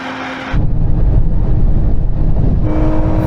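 Sports car in a drag race pulls hard through the gears: a loud, close engine roar that swells suddenly, holds steady, then eases off into a higher, lighter tone near the end.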